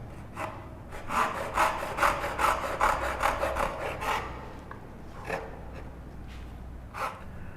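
A hand saw rasps through wood cutting dovetails for a tissue box in a quick run of back-and-forth strokes, then slows to a few spaced final strokes, close and clear.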